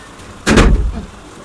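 A gate swung shut against pouring rain, giving one loud close bang with a short rattling tail over a quiet background.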